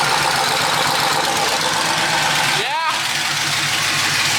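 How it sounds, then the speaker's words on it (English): An LS-swapped Mustang with an automatic transmission and straight pipe exhaust, inside a shop: a loud, rough engine rumble runs throughout, with a brief starter-like sweep near the end, and people talk over it. "We're gonna start it up and hear what the straight pipe inside the shop is gonna sound like"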